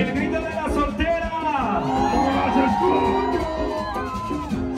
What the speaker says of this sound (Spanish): El grito de la soltera.